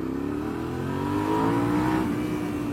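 Suzuki SV650S motorcycle engine revving and accelerating on the road, a steady close drone rising in pitch as the throttle opens, with no voices.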